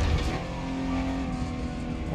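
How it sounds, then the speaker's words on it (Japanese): A Lamborghini Diablo GT engine in a realistic open-world driving game hums and revs steadily, a smooth continuous drone that is fairly subdued rather than roaring, driving at night. "あ、でも思ったよりも静かな感じのがエンジン音は。"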